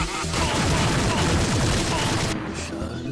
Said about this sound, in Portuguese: Tiro pra tudo quanto é lado.